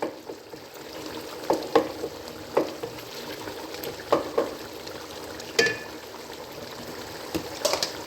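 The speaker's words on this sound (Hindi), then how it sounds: "साथ साथ मैं भूनती रहूँगी।" Chicken and tomato gravy fries in a pot, bubbling and crackling steadily while a spoon stirs it with occasional sharp scraping knocks, close and fairly quiet.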